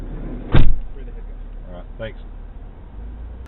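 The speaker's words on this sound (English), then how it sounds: "That sound you heard was actually of him opening the sliding door on our van and closing it back." A van's sliding door is opened and shut, giving one loud, sharp thud early on followed by quieter rumbling, with brief talk in the clip.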